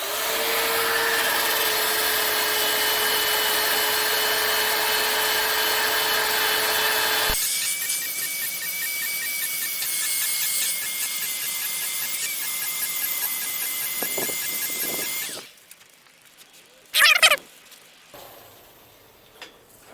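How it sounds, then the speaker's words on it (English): An old corded electric drill grinds scale off a train rail being made into an anvil. It whines and scrapes steadily, changes tone partway through, then stops, leaving only a few brief clanks and rattles. "So I got this old drill. It's corded."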